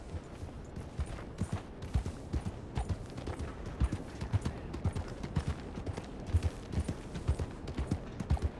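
Horse hooves clip-clopping at a steady trot in Red Dead Redemption 2, close and rhythmic with sharp repeated hoofbeats throughout, over a faint background of game ambience.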